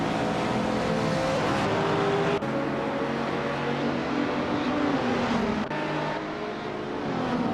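Race car engines in a racing video game, including a 2004 Nissan 350Z GT300, roaring and revving hard off the start line in a loud, steady, close drone with shifting pitch.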